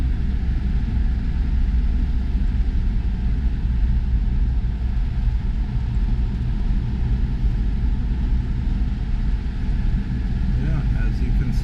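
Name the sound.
Toyota Back to the Future tribute truck running and driving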